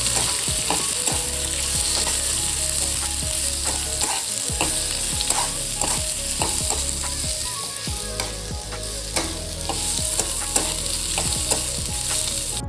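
Onion and coconut frying in oil for a Hyderabadi chicken biryani masala, a dense, constant close sizzle with frequent spatula clicks and scrapes against the pan, and no voices.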